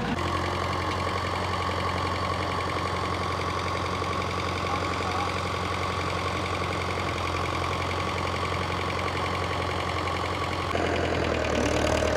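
A single-cylinder tractor engine chugs steadily in second gear while driving a 7 ft double rotavator, a loud, continuous mechanical drone with a knocking pulse, shifting in tone near the end.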